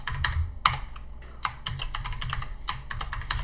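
Password being typed on a computer keyboard, a quick run of crisp close key clicks in an uneven rhythm with a few sharper taps, heard alone in a quiet room.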